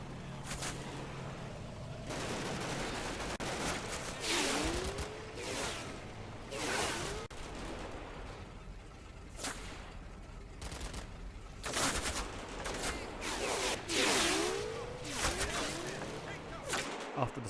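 Bursts of German machine gun fire crackle in a World War II Combat Mission battle in Italy, repeated staccato volleys with whooshing shots and distant artillery-like booms, irregular across the whole stretch.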